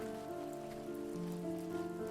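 Rain in The First Tree patters in a continuous soft hiss beneath gentle held music notes, steady and even throughout the short stretch.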